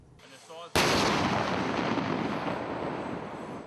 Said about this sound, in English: the tankers head out to the range to test out their gunnery skills on the most lethal part of the tank, the 120mm smoothbore main gun